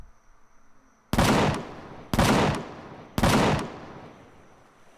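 Three heavy, booming gun turret shots in the Empyrion Galactic Survival game, evenly spaced about a second apart, each ringing out in a long decaying tail.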